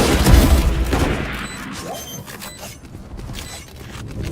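Loud explosions and crashing bursts from a tactical shooter game after a planted spike, with strong booms early and smaller blasts trailing off.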